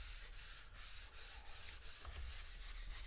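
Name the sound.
squeegee smoothing vinyl onto a canvas panel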